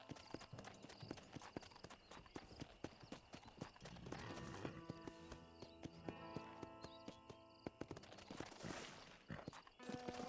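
Horse hooves clip-clop steadily in Red Dead Redemption as a rider approaches Fort Mercer, a continuous rhythmic trotting that runs the whole stretch at moderate loudness, with occasional faint snorts and game background.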